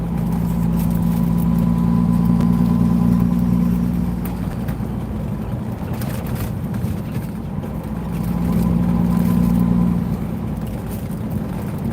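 Road traffic with car engines idling rumbles steadily up close, a low droning hum that swells twice and then eases back, with no talking.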